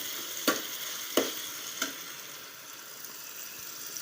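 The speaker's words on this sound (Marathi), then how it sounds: "आता अशी मिक्स करून म्हणजे चांगली अशी परतून घ्यायच्या" Green peas curry with gravy being sautéed in a pan, a soft even frying hiss broken by three spoon scrapes or taps early on, fairly quiet and without speech.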